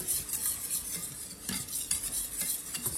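A roux of flour and fat cooking over medium heat, with a utensil stirring it continuously in the pot, giving a close, steady scraping and soft sizzle throughout.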